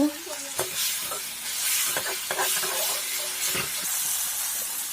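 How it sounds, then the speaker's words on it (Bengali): Chopped tomatoes fry in a pan for egg bhurji, giving a steady close sizzle and hiss broken by scraping, clinking stirs of a spoon against the pan. "টমেটো দিয়ে আবার ভালো করে ভেজে নেব।"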